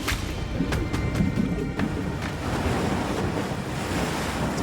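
Ocean waves and strong wind roar steadily around a lobster fishing boat on rough, wild seas, a loud continuous wash of surf with buffeting wind noise on the microphone; no talk.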